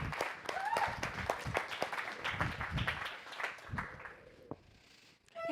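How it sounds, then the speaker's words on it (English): An audience breaks into a scattered round of applause, claps thinning out toward the end as the room quiets, with some indistinct voices underneath. "so give them a round of applause."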